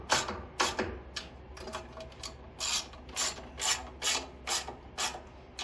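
Nuts being tightened on a Firman dual-fuel 7500-watt generator during a propane conversion: a series of short, moderately close ratchet clicks in bursts with brief pauses, no talking.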